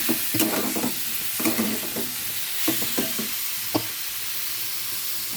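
Ginger and onion paste fries in a pan, a constant hissing sizzle with bursts of stirring scrapes in the first few seconds, then mostly steady frying, close, no talking.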